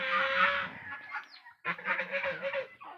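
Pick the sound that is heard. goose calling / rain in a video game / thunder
goose calling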